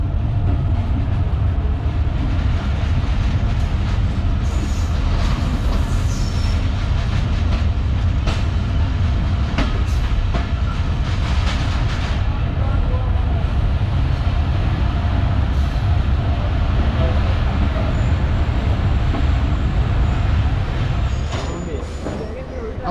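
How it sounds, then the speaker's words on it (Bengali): Onboard the Barendra Express as it rolls into Sardar Road station: a loud, continuous rumble with clattering wheels that carries on throughout and eases slightly at the very end. "ট্রেন প্রবেশ করছে সর্দার রোড স্টেশন যদিও এখানে আমাদের ট্রেনের কোনো স্টপেজ নেই"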